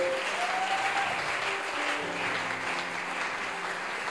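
A congregation at a worship service applauds in a sustained, even wash of clapping at moderate volume, with a few voices faintly mixed in.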